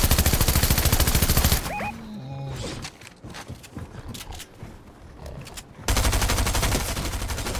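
A heavy shotgun fires during a video game firefight in two loud, dense bursts of blasts at the start and end, separated by a quieter stretch of scattered in-game effects and tones.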